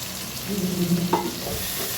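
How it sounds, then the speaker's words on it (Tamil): Ginger garlic paste and shallots sauté in a pan with a soft continuous sizzle, a spoon stirring through them and one brief scrape mid-way, steady and fairly quiet with no voices. "நல்லா பச்சை வாசனை போகிற அளவுக்கு நல்லா அதை வதக்கிக்கிட்டே இருக்கணும்"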